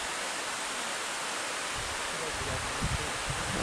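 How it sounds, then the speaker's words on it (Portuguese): The Cachoeira das Lágrimas on Mount Roraima pours down as a dense, steady wash of falling water, loud and close, with a few low thumps near the end. "Abriu a famosa Cachoeira das Lágrimas. Vamos ter que passar embaixo."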